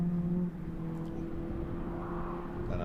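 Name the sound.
supercharged Mini rallycross car whining past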